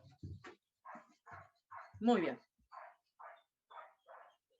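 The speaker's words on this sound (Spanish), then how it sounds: "se alborotaron los perros" Several dogs bark in a lively series of short, evenly spaced yaps at moderate distance, about eight in a row, with one louder mixed burst near the middle where a voice briefly speaks over them.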